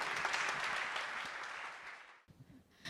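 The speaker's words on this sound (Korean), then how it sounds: "나오실 때 큰 박수로 맞아주시길 부탁드립니다." Audience at a school admissions information session clapping to welcome a choir of parents and teachers, a dense wash of applause that fades and drops away near the end.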